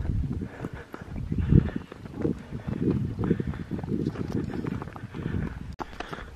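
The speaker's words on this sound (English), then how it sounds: "you're riding your horse down the road" Horse hooves clip-clop along a road during a trail ride, a steady walking rhythm heard close with some wind and rustling in the background.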